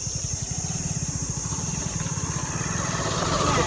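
A motorcycle engine putters with a steady rapid rhythm on a road, nearby and growing slightly louder as it approaches, with no talking over it.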